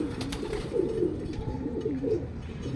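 Racing pigeons coo in a steady, overlapping chorus at a derby race loft, close and fairly loud, with soft rustling and low background noise and no talk.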